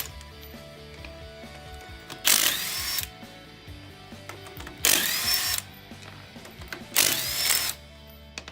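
A power tool on a Toyota Prado, with the wheel coming off, gives three loud whirring bursts of under a second each with quiet pauses between them, close by.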